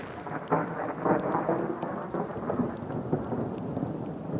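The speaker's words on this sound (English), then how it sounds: "And this is a light rain." Light rain falls on farmland in Lesotho, a steady near hiss of drops with soft scattered patters and no talking.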